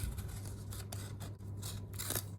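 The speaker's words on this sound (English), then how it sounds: "Now I can get my scissors in there." Scissors snipping through a plastic cup while building a ping pong ball cup cannon, a series of close, dry crunching cuts over a low steady hum.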